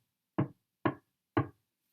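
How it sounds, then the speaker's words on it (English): Knocking at a door as a sound effect in a Macbeth reading: three separate, evenly spaced knocks about half a second apart, close and fairly loud against silence. "Hark, more knocking!"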